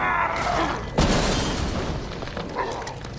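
A cannon is destroyed in Resident Evil Resistance: one sharp boom with a shattering crash about a second in, then a lingering rumble and a smaller thud near the end.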